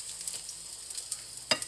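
Eggs frying in a pan for a Filipino breakfast, giving a steady hiss of sizzling oil, with a few soft clinks and one sharp scrape of a utensil near the end.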